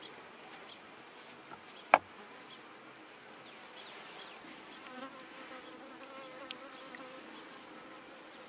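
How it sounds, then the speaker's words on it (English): Honey bees buzz steadily across the frames of a horizontal hive, a faint, continuous drone with one sharp click near the start. No one speaks. "And the bees are working it. They're on every frame."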